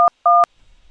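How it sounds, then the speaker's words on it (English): Keypad tones sound as a cell phone dials 911: two loud, crisp dual-pitch beeps, the second held a little longer, followed by faint quiet. "So you quickly try to make a 911 call"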